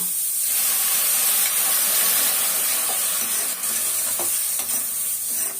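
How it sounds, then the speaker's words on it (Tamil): Steady rolling hiss of water boiling hard in a pot for semolina, continuous and close, with a few faint clicks and bubbles popping through. "நம்ம இப்போ தண்ணி நல்லா கொதிக்குது"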